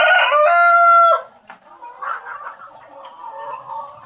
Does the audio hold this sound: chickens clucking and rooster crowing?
yes